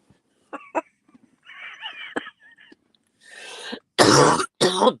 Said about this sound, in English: That's the worst part about the weed is the coughing.